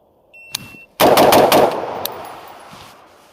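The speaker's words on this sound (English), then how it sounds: "you're going to let your sights come back down and press off the next shot" Rifle fired at a target in quick succession, a couple of sharp loud cracks in rapid bursts with short echoing decay, following a small click.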